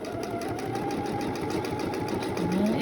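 A sewing machine stitches a pinned fabric face mask, its steady close hum and rapid needle patter running continuously while someone talks over it.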